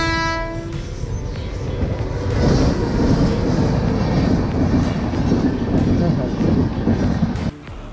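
A train runs along a railway track close beside a rough dirt path near a highway, its horn sounding at the start and a steady loud rumble of wheels and cars rolling past for several seconds.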